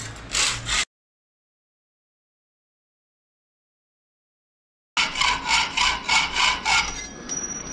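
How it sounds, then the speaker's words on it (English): A hacksaw makes a long straight cut while a homemade console for a jon boat is being built. A short burst of rasping strokes is followed by a few seconds of silence, then about six rhythmic back-and-forth strokes, close and loud. "It's about as straight as you're gonna get with a hacksaw."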